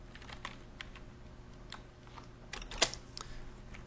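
Quick, uneven clicks of keys on a computer keyboard, fairly faint and close, with a louder keystroke near the end and no talk.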